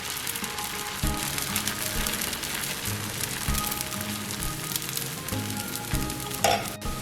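Protein dosa batter with onions sizzles on a hot pan, a loud continuous close frying crackle with scraping and knocking from a utensil.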